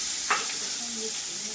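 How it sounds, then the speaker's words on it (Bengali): Chopped onion goes into hot oil with a brief clatter, followed by a steady close sizzle with no talking. "এবারে দেবো একটা পেঁয়াজ কাটা।"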